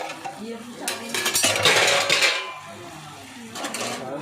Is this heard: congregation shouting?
no